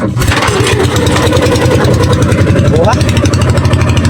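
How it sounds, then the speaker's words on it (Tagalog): Boat engine being started and revved, a steady loud mechanical drone with rising pitch near the end, running throughout while someone speaks over it. "Pandarin muna natin itong ating makina."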